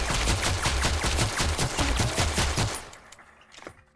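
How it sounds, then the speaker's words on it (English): Rapid, evenly spaced gunshots hitting a character in a video game, a loud rhythmic volley of about a dozen shots that stops abruptly, followed by faint scattered sounds and one last click. "See how many bullets it takes to make him lose all of his limbs."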